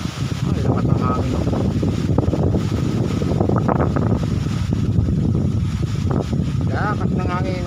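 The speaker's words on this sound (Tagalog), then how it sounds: "Ay, lakas ang hangin." Strong wind buffets the microphone in a constant low roar, with faint voices and a high whistling sound now and then.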